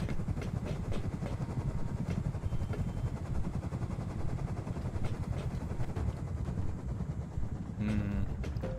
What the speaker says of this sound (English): Sounds like 2 helicopters.